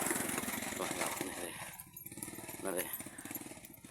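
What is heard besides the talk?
child riding motorcycle across rural river bridge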